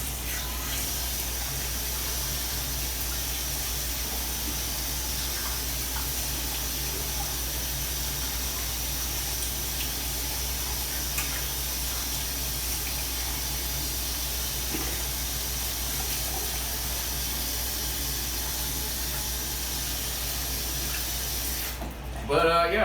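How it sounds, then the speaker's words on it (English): Steady tap water runs into a bathroom sink for a face rinse, a continuous broadband wash heard up close and alone for about twenty seconds, with a brief clatter right at the end. "I'm gonna go ahead and rinse my face,"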